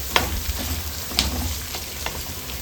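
Sliced capsicum frying in hot oil in a pan, a steady soft sizzle with a few sharper crackles and stirring clinks, close and moderately quiet, no talking.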